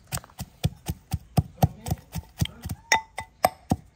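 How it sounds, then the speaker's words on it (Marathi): Steady pounding of ginger in a mortar and pestle, about four dull, even thuds per second, close and fairly loud, with no voices. "बाहेर मिक्सरची सोय नसल्यामुळे आम्ही खलबत्ता मुसळीतच कुटून घेणार आहोत"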